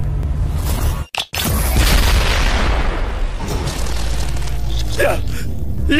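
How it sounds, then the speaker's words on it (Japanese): The Killer Queen Bites the Dust bomb from the JoJo All Star Battle fighting game goes off as a loud, roaring explosion. A sharp cutout is followed by a long, sustained rumbling blast that fades slowly. "キラークイーン第3の爆弾バイチャーダスト。"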